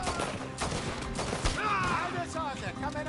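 Gunfire in The Last of Us Part II: dense bursts of shots crack out amid a busy mix of game sound and chatter, with voices talking over much of the fight.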